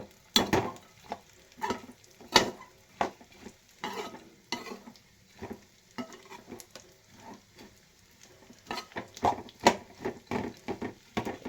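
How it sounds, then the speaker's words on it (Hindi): Masala roasting in a pan gives soft sizzling under repeated scraping and stirring strokes, quiet and close, in irregular bursts with short pauses and no talking. "ये देखिए मेरा मसाला ये सारा एकदम भुन गया।"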